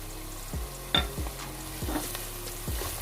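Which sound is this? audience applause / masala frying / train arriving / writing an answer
masala frying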